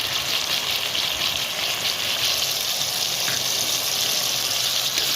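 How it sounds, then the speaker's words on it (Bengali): Potato pieces seasoned with salt and turmeric fry in a pan, giving a steady, close hiss of sizzling oil throughout, with no voices. "আলুটাকে ভেজে নেব। আলুর মধ্যে দিয়ে দেবো হচ্ছে লবণ আর হলুদ।"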